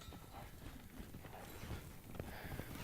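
A ridden horse walks in circles, its hooves making faint, irregular clip-clops under a noisy outdoor background.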